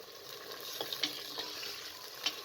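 Meat frying with onion and garlic for aloo matar gosht, a faint, even background sizzle with a few light stirring clicks and ticks.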